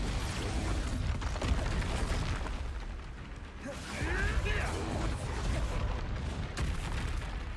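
Expulso spell blasts in the Hogwarts Legacy video game, rumbling explosive booms and creaking, clattering debris over a busy game soundscape, moderately quiet overall with a brief swell near the middle.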